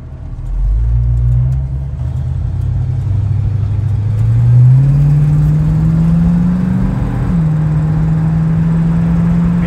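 A 1968 Ford Mustang convertible with a small-block two-barrel engine drives along, its loud, steady engine drone climbing in pitch under acceleration, then dropping and settling after a gear shift; no one speaks.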